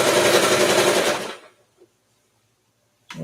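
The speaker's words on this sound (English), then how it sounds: "And then we're gonna sew." Sewing machine stitching thin, silky fabric, a loud continuous fast-running whir for over a second that then stops, followed by near silence and a small click.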